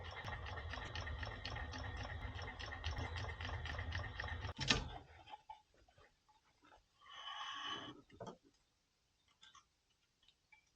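A flatlock sewing machine stitches softshell jacket fabric in a steady, dense mechanical whir for about five seconds, then stops; a shorter second burst of stitching follows, with light handling noises between runs.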